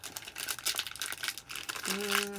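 Close, continuous crinkling and rustling of paper being handled, ending with a brief voiced tone.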